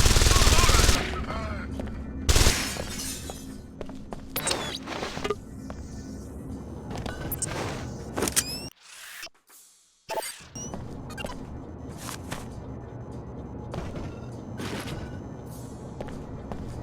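An automated security turret in Deus Ex: Invisible War fires rapid bursts of loud gunfire, cutting out briefly midway before resuming, with thuds and movement around it.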